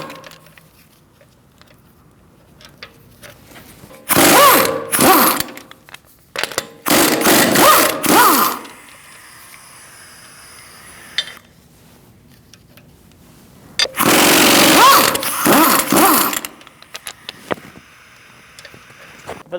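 A power tool with a 17mm socket spins off wheel fasteners on a Mercedes-Benz C300, three loud buzzing bursts of a few seconds each separated by quiet gaps, close to the microphone.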